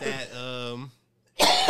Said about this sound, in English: you've been coughing for me